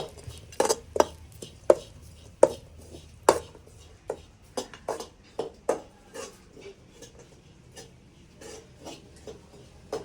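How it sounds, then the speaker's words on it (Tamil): Grated coconut dry-roasting in a pan, heard as a series of sharp metal spoon scrapes and taps against the pan at irregular intervals, close and fairly quiet between strikes. "சீஞ்சட்டிக்குள்ளாடி தேங்காயை போட்டு நல்லா வறுத்துக்கிட்டு இருக்கேன்"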